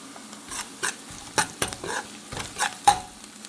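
Ginger garlic paste fries in a pan, a soft sizzle under scattered scraping strokes and light metal taps as it is stirred.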